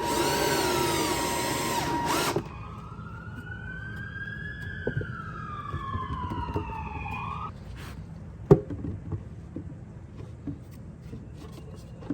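A power drill drives a screw into a wooden goat hay feeder, whining loudly at the start and then stopping abruptly. A rising and falling siren carries in from the distance, followed by a sharp knock and faint handling noises.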